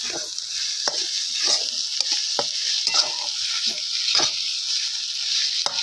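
Onion and egg bhurji fries in a pan with a constant sizzle, while a spoon scrapes and stirs in irregular strokes.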